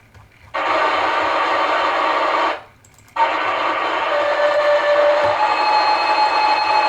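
Loud radio scanner traffic in a home storm-chasing setup during tornado outbreak coverage: two long bursts of dense static-laden transmission, separated by a brief gap, with no speech over it.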